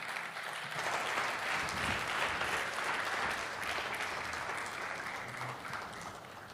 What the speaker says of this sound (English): Can we give MI another applause?